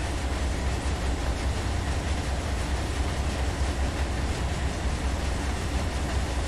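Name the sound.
freight train rolling in Run 8 Train Simulator video game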